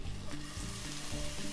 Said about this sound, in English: Stir the pot, mix the ginger and garlic. So let it cook for about 1 to 2 minutes